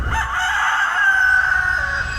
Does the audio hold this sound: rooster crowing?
yes